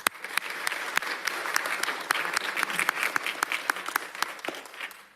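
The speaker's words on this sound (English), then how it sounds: "Give them a round of applause." Applause from attendees at a city council meeting in Atlanta, moderately loud with distinct individual claps standing out, steady across the moment and thinning slightly toward the end.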